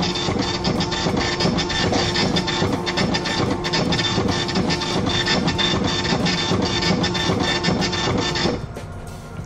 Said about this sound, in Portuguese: Como vocês podem ver, a impressora imprimiu.